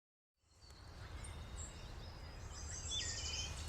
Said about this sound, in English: You hear that? That is a wood thrush.